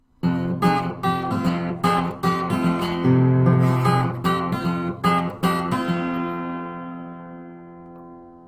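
Fingerpicked acoustic guitar plays a bluesy pattern of plucked notes and chords, close and clear, ending on a ringing chord that fades out.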